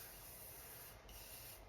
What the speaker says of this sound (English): It's an aerosol spray.